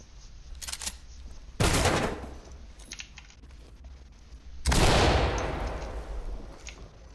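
Two loud shotgun blasts in a tactical shooter game, each a sharp boom with a decaying tail, the second one longer, separated by quieter clicks and handling noises.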